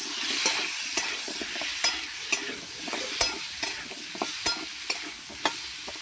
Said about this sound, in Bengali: কুমড়োটাকে একবার নেড়ে দেবো।